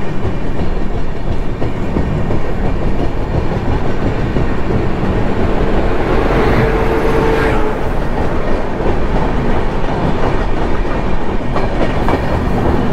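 The Telangana Express rolls along at speed, a loud, continuous rumble with rhythmic clickety-clack of wheels over rail joints and a brief swell of squeal midway, heard from near the carriage doors.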